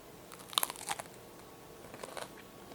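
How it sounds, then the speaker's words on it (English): Crunchy crust of homemade no-knead bread bitten and chewed close up, a few sharp crackling crunches in a quick cluster followed by softer chewing crunches, fairly faint with no talking. "You hear the crunch?"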